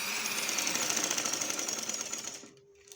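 A sewing machine runs fast and close while stitching an inner piping seam, a rapid even whirring clatter that stops abruptly near the end, then falls quiet.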